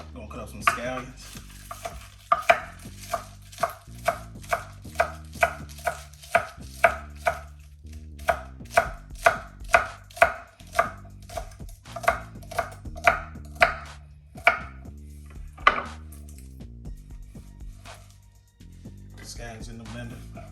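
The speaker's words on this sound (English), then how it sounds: "I'm gonna cut up some scallions." A knife chops scallions on a cutting board in a home kitchen, giving a long run of crisp, close, evenly spaced knocks that come in bursts with short pauses and trail off near the end.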